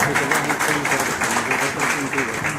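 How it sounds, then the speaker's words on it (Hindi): An audience at a Human Rights Day event in Jhajha claps steadily, a dense, continuous patter of many hands under a voice speaking through a PA, neither rising nor fading across the stretch. "मैं चाहती हूँ कि आप सब उसको तालियों के साथ उनकी हौसला अफजाई करें"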